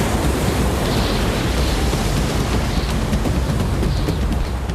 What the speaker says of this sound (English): This footage from last winter shows the pier engulfed by waves.